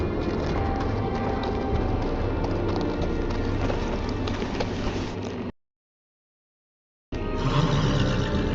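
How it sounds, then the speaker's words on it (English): Horse hooves clip-clop steadily in a Game of Thrones video game, a continuous rhythmic patter over ambient game sound, cutting to silence for over a second before resuming. "On a horse, no less."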